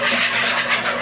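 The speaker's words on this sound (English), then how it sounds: "Then we're just going to whisk this all together." A whisk beats salad dressing seasoned with salt and pepper in a bowl for a shrimp and fruit salad. It makes a loud, close, rapid scratchy swishing that runs without a break, with no talking.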